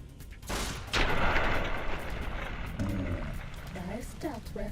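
Gunfire from enemies in a Futurama-style shooter video game, bursts of shots crackling through a busy mix, with someone talking over the later part.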